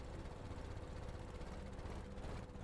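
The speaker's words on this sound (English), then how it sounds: "oh, now it's back to revving" A small motor spins steadily under PID controller tuning at about the 14 throttle mark. It holds a continuous, moderately loud whir with a faint high tone for the whole stretch, with no talk over it.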